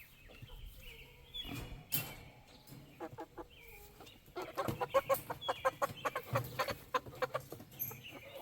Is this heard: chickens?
yes